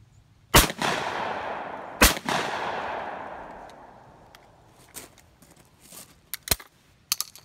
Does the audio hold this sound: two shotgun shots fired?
yes